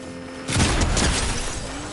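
Sniper rifle fire in the Fortnite video game: a loud, sharp burst of gunfire lands about halfway through, its booming echo and crackle rolling on under game ambience to the end.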